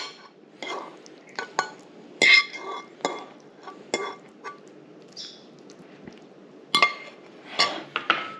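Eggs and anchovies placed onto toast on a plate for Scotch woodcock, a series of light clinks and taps of utensil against china, sparse and close in a quiet room.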